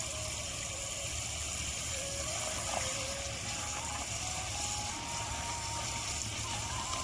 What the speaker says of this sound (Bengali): কারণ এখন কলে জল চলছে